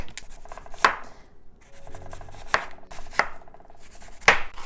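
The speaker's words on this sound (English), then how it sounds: "Chop it up even smaller." Raw cabbage chopped finely with a knife on a board: four or five sharp, close cuts at an uneven pace, with light rustling of leaves between them.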